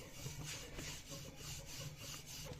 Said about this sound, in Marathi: हे असं गोल गोल सगळीकडून लाटून घ्यायचं आहे